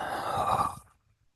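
A single deep, breathy exhale during a guided heart-healing meditation, close and soft, with a long airy whoosh that fades into near silence.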